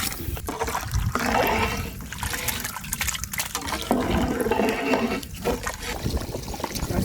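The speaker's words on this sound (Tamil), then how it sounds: "ஒரு பாத்திரம் அரிசி இருந்தால் ஒன்றரை பாத்திரம் தண்ணி ஊற்றலாம்" Water pours steadily into a pot of raw rice for chicken biryani, a continuous close splashing and gurgling stream that fills the whole moment with no talk over it.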